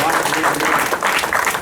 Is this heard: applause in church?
yes